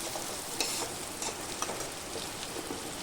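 Pumpkin and ridge gourd fry in ghee in a pan, giving a steady close crackling sizzle with small pops throughout and no talking.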